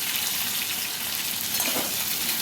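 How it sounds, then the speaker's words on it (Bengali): Potatoes and taro fry over medium heat in a pan, making a dense, even sizzle that runs steadily throughout, close and fairly loud, with no voices. "আলু আর কচুটাকে ভালো করে ভেজে নিতে হবে"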